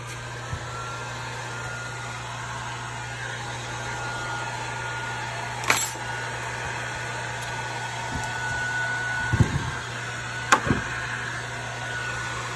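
Heat gun blowing on shrink wrap around a LiPo battery, a steady airy whir running throughout, with a few faint knocks and taps.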